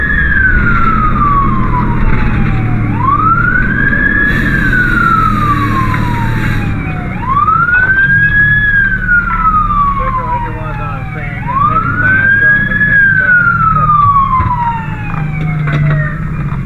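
Meridian Fire Department Engine 1 siren wailing loudly in repeated rising and falling sweeps, each cycle lasting a few seconds, with a brief burst of high electronic yelp or horn partway through over steady engine rumble.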